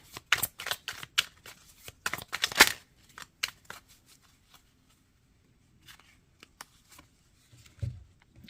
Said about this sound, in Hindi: मैं एक कार्ड और निकालती हूँ, मुझे एंजल ने का एक कार्ड और निकालना है